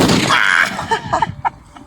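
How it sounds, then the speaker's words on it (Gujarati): A loud sharp Diwali firecracker blast at the start, followed by a few quieter pops and crackles fading out. "હા ફોડીએ બોમ્બ"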